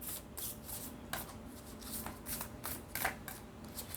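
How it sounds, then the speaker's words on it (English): Large pick-a-card deck shuffled by hand, close-up riffles and slides of big cards repeating in irregular bursts over a steady low background hum, with no talking. "these cards are quite big and takes a lot of effort to hold them and shuffle them"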